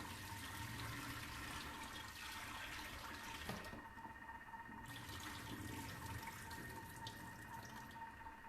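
Running tap water rinsing soaked, softened rice noodles for mee hoon goreng, a steady broadband rush that continues throughout with no pauses and no talking.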